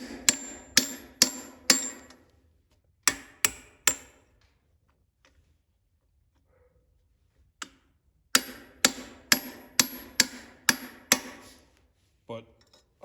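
Sharp metallic hammer blows driving a bushing into an International 986 tractor front end, in two quick bursts of three and four, a pause of near silence, then a faster run of about eight strikes close by.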